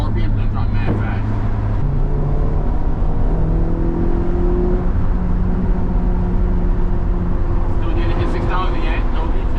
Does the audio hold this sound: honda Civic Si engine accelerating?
yes